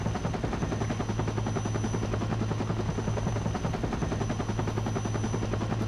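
A helicopter in the Vietnam War video game Conflict: Vietnam, its rotor beating in a loud, continuous rapid chop with a steady engine drone throughout, heard close and alone.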